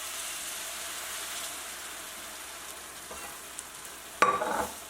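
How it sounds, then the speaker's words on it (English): Sugar syrup poured into frying moong dal for vegan halwa bursts into a sudden loud sizzle and splatter near the end, following a quiet stretch of faint, steady frying. "So now we are going to add the sugar syrup slowly because it will splatter."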